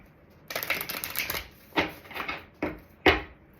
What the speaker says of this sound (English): I will pull you one last card here